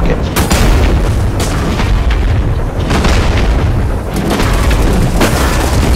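Giant rocket in a video game blowing up with a loud, sustained roaring explosion, several heavy booms rumbling through a dense, continuous blast of noise.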